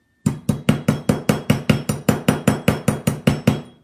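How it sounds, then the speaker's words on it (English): A rawhide mallet hammering the edge of a copper cuff blank, about fourteen even, dull thuds in a quick steady rhythm, close and loud, with no talking. "because I'm doing it with the rawhide mallet, I'm not like flailing out and making this edge too much thicker"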